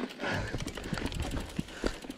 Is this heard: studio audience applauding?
no